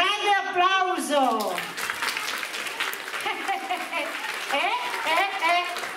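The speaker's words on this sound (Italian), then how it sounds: "Un grande applauso." An audience of children claps together, with a voice talking over the start and the end and the applause continuing at a moderate level between her words.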